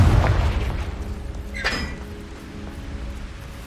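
A Confringo blasting spell in the Hogwarts Legacy video game, a low rumbling boom at the start that decays over several seconds, with a brief bright crackling burst in the middle.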